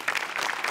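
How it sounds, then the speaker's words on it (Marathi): Audience applause on a Marathi TV comedy show, a brief burst of dense clapping from a crowd, moderately loud and steady with no speech over it. "आज विशेष करून सेटिंग आणि म्युझिक डिपार्टमेंटसाठी टाळ्या वाजवल्या पाहिजेत"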